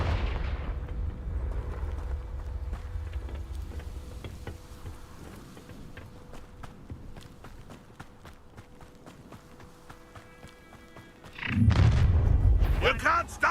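Confringo explosive spell blasts in Hogwarts Legacy: a loud booming burst near the start and another heavy rumbling blast near the end, with game effects and a voice in between.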